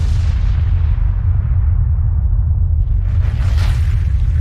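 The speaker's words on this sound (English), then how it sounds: "followed by a massive blast" A massive explosion from the Tunguska event near the Podkamennaya Tunguska River is rendered as a loud, deep, continuous blast rumble that rolls on for several seconds with a rougher surge near the end.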